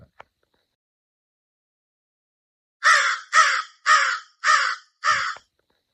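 A person imitates a crow's caw by mouth, as a crow call used in turkey hunting, giving five evenly spaced harsh caws, close and clear, after a brief click.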